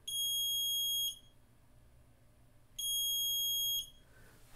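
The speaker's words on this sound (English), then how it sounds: "when I cover it up, you can hear the buzzer. It's pretty piercing." Piercing electronic buzzer on a CogsWorth City Kit light sensor, triggered when the sensor is covered: two loud, steady high-pitched tones, each about a second long, separated by a gap of quiet hum, close and with no talking.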